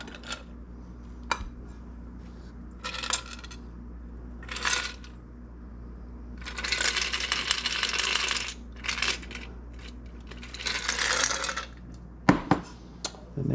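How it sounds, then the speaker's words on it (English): North Sea Oil cocktail being strained into a double rocks glass over a 2-inch ice cube: close, repeated bursts of rattling ice and clinking glassware, separated by short pauses, with no voices. "Strain out the ice."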